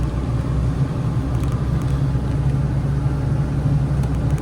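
Truck driving along a coastal clifftop road, with a steady, loud engine rumble and road noise that holds at an even level throughout, and no voices.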